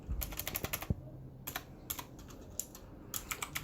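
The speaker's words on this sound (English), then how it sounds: "It turns on the lights every time you click a key." Keys clicking on a cheap $13 mechanical gaming keyboard with light-up keys, heard as close, crisp taps in irregular quick bursts with short pauses between them, and no voices.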